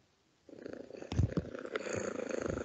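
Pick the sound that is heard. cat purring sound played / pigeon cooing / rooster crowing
cat purring sound played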